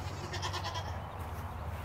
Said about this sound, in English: the goats are like, what about us?